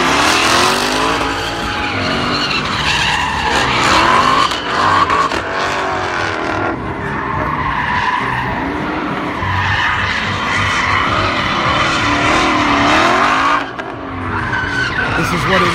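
Drift cars at a SEMA 2017 exhibition, with loud continuous tire squeal and skidding over revving engines, rising and falling as the cars slide past close by, with no talk.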